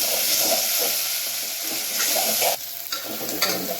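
Soya chunks with mint and coriander sauté in a pan for tomato rice, a loud continuous sizzle with rhythmic spatula stirring and scraping, close up and without talk.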